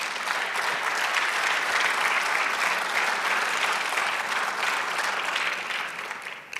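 A church congregation applauds during a sermon, sustained, even clapping from many hands that swells briefly and then tapers off at the end.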